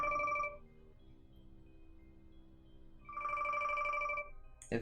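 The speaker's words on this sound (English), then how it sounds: "If my phone will stop ringing." A phone rings with bright repeating electronic tones, two bursts separated by a quieter gap with a low hum underneath, close and fairly clear.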